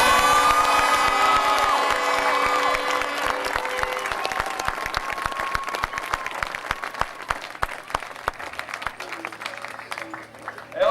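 A crowd at a county final applauds loudly, with cheers and whoops at first, then the clapping thins out into scattered claps.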